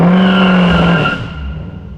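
A Dodge Scat Pack's engine holds a loud, steady drone at about 2300 rpm under launch control, then the revs drop away after a second into a lower idle rumble.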